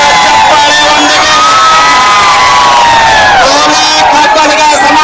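A large crowd cheers and shouts at a community protest rally in Gulbarga as it is flagged off. Loud, dense whoops and yells carry on continuously, with clapping mixed in under the roar.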